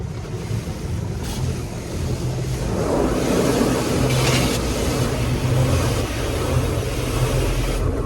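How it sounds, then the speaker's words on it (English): Inside a car sitting in a running car wash, a loud continuous wash of water spray and brushes swells around the vehicle, heaviest in the middle stretch, with no talking. "Maybe it's a bad idea to keep trying to say words in a car wash"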